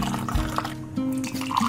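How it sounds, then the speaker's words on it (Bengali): Tea poured from a pot into a cup in a kitchen, a short close liquid stream with rising gurgling fill tones and small drips. "চাটা ঢালবো"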